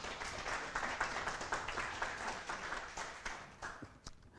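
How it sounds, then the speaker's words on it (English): Church congregation clapping hands during a sermon, a fairly quiet, sustained patter of many hands that thins out toward the end, with the room's reverberation audible. "Give the Lord a hand clap."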